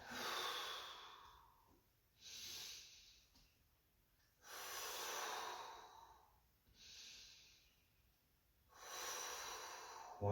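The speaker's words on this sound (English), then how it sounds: "nice and steady breathing." Slow, steady breaths held in a yoga pose, about five long airy inhales and exhales in an even rhythm, close and soft with no talking.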